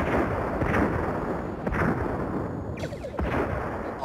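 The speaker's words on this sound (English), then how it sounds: "Fire on all enemy ships. 1 photon each should do." A starship fires photon torpedoes at enemy warbirds in a sci-fi battle, a loud, continuous rumbling barrage with repeated booming bursts and a sweeping whoosh near the end.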